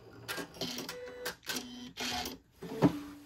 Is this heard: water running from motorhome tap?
no